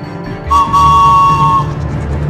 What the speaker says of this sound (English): could hear a whistle in the distance